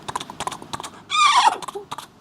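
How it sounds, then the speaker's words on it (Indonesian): A horse whinnies in one loud, shrill burst in the middle, set between patches of soft knocking and background noise, with no speech. "Semua bilang suara kuda."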